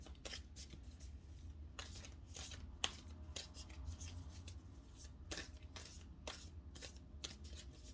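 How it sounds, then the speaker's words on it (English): Cards being shuffled in quick riffling bursts, soft and close, with short pauses between the runs. "I'm going to give it another shuffle."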